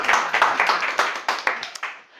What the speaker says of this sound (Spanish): No aplaudáis, que es peor.